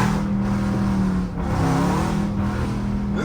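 A Jeep 5.7 V8 fitted with a cold air intake, a steady loud engine drone with rising and falling revs, close and continuous throughout with no talking.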